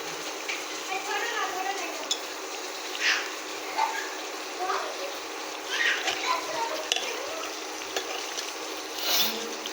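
Fried rui fish korma in a pan sizzles and spatters steadily while green chillies are stirred in, with soft stirring scrapes and someone talking over the cooking throughout.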